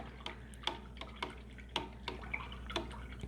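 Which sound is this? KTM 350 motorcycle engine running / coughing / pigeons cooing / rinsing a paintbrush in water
rinsing a paintbrush in water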